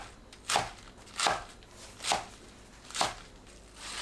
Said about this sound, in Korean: 상추를 1cm 너비로 썰어주세요.